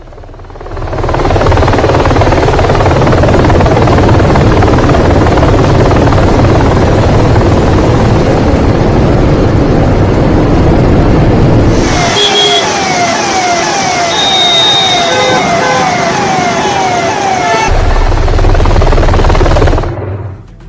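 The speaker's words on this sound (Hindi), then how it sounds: "ये हेलीकॉप्टर लेकर पहुंचा है वेनेजुएला के राष्ट्रपति को कोर्ट में पेशी के लिए" A helicopter flies close overhead carrying Venezuela's president to a court appearance, its loud continuous rotor roar filling the whole clip, joined midway by a piercing tonal whine and rattle before fading out.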